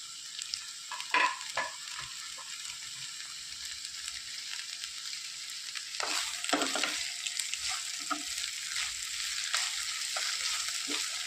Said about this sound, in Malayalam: നന്നായിട്ടൊന്ന് വഴറ്റി വേകുന്നത് വരെ നന്നായിട്ടൊന്ന് വഴറ്റിയെടുക്കും.